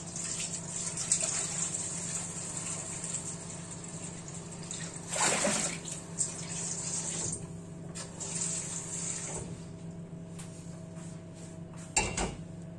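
Water is poured over oiled, salted potatoes packed into a baking dish, a short splashing gush that stands out over a steady background hum, followed by a few faint clatters.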